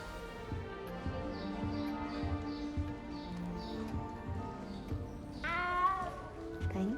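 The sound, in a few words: cat meowing in the video game Hogwarts Legacy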